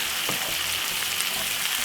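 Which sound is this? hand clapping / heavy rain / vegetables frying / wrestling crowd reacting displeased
vegetables frying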